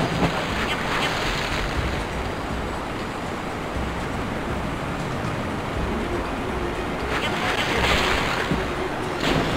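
Continuous rushing water and surf in the Ben 10 Alien Force Vilgax Attack video game, a broad steady wash with gentle swells, loud and uninterrupted with no talk over it.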